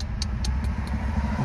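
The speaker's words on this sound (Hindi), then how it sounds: "गाड़ी हाइब्रिड आ रही" A hybrid car passing on a road, a steady low engine and tyre rumble held close throughout, with a few short high chirps standing out on top.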